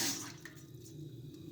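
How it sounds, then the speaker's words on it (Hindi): One cup of water is poured into a pan on a lit stove while making meethi tikiyaan with jaggery. A brief, close splash of pouring comes at the start, then fades into quiet trickling. "अब हम एक पैन लेंगे, उसमें हम डालेंगे 1 कप पानी"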